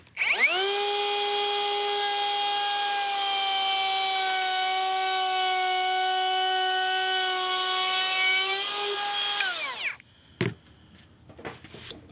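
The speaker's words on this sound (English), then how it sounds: "and then you can just route a groove like so" A Metabo HPT cordless router cuts a half-inch-deep groove in a deck board, a loud steady high-pitched whine holding for about ten seconds before spinning down, followed by a few clunks.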